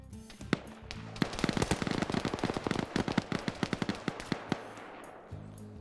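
Thermite grenade burning in a video game, a dense crackling stream of sharp pops and sputters lasting several seconds, fairly quiet and steady before tapering off.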